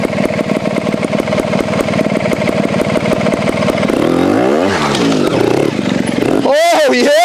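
A new, very light trials motorcycle runs with a steady, close engine putter, rhythmic pulses carrying through most of the stretch before a brief rev and shifting tones near the end, with faint voices mixed in.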